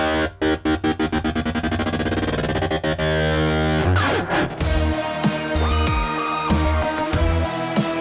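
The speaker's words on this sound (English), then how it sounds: "when I move down the joystick, the speed of the tremolo goes up." Distorted guitar and synth through a Fractal tremolo, the pulsing speeding up as a joystick moves, then giving way to dense, shifting heavy riffing with pitch bends, loud and close with no voices.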